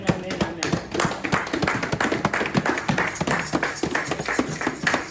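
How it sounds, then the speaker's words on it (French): A church congregation applauds at a French-language service, a dense run of many overlapping hand claps at close range, sustained and fairly even, with voices faintly mixed in beneath the clapping. "Nous acclamons pour la parole de Dieu"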